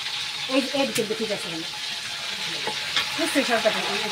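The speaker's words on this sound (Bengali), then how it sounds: "একটু হালকা করে ভাজেন।" Food sizzles and crackles in a hot pan while being stirred, the frying hiss steady with bubbling bursts, and people talk nearby over it.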